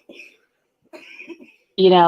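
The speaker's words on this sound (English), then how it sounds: "Is she laughing? No, coughing." A woman gives a couple of short, breathy coughs close to the microphone, followed by a brief voiced sound.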